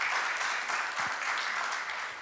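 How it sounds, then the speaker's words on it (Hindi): A church congregation at a Sunday Hindi service at Kinoya Assembly claps loudly to welcome the pastor, a dense, steady burst of many hands that carries on evenly throughout. "क्यों ना हम जोरदार तालियों के द्वारा उनको स्वागत करें।"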